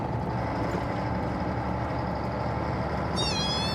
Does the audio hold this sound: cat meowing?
yes